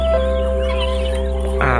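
Guinea fowl call and cluck amid a steady farmyard hum, with a sharper burst of squawking near the end.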